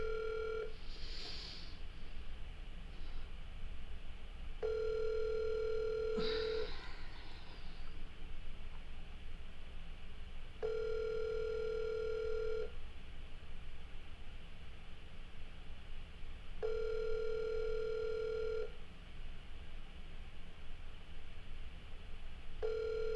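A phone call is retried: a landline ringback tone pulses in long even bursts, four or five of them a few seconds apart, over low line hiss, with some brief dialing clicks near the start.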